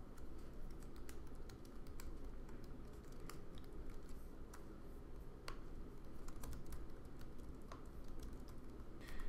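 Computer keyboard typing, as when entering a headline into a web editor: a steady, continuous stream of quick clicking keystrokes close by, with no talking.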